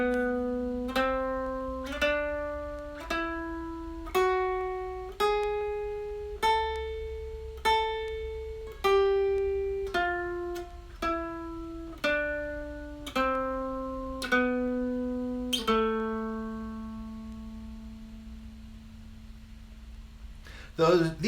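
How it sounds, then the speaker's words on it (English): A dulcimer plucks an A melodic minor scale, rising then falling in evenly spaced single notes, each ringing and decaying, clear and close, ending on a long sustained low note. "they were referred to as the ascending melodic minor and the descending melodic minor, and they sound like this when they're played one after the other"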